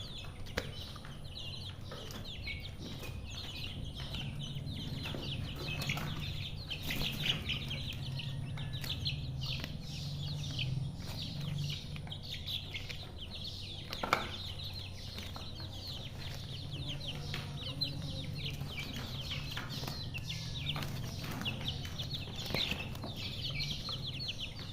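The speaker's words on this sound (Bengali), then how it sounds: "আমি এই সোনালি টাইগার মুরগগুলো আছে, আমি পেঁপে পাতা দিচ্ছি, ওরা কীভাবে খাচ্ছে।" Sonali Tiger chickens feed on papaya leaves, giving soft clucks and rustling pecks against a steady outdoor background, with occasional wing flutters and a sharper sound near the middle.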